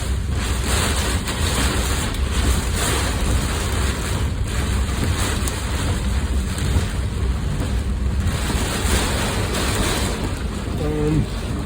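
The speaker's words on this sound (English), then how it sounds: "we got high winds here, very high winds." Strong, very high wind blowing outdoors on a cul-de-sac lined with small trees, a constant loud roar and buffeting against the microphone throughout with no letup.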